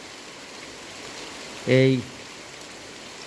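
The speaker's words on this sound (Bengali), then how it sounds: "ভোর থেকেই শুরু হয়েছে মুষলধারে বৃষ্টি।" Heavy, torrential monsoon rain pours down in a constant, dense hiss, with one short spoken word in the middle.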